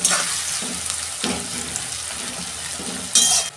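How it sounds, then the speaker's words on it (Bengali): Onions fry with green chilli and salt in a pan, a steady close sizzle with scraping stirs and a louder hissing burst near the end. "পেঁয়াজটা একটু ভালো করে লাল লাল করে ভেজে নেব।"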